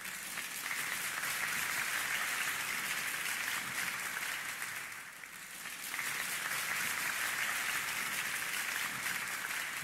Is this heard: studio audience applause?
yes